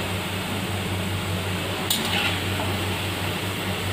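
Potatoes frying in a pan over high heat give a steady broadband sizzle with a low hum beneath, constant and fairly close, with one brief metallic scrape midway.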